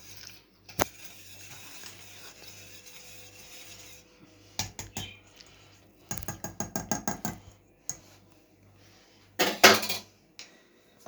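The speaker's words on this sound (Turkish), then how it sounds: "Şimdi tekrar son bir kez karıştırıyorum." A spoon scraping and clinking against cups while tiramisu mixture is stirred, in short bursts of rapid rhythmic strokes with quiet gaps between, fairly close.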